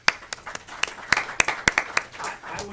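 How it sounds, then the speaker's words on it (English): An audience at a village board of trustees meeting applauds police officers being honored, a short burst of close, crisp hand claps from a small group. "it was my pleasure to applaud all the members of the police force who were honored tonight"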